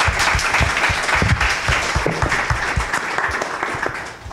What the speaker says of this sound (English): let's have one last round of applause for our excellent panel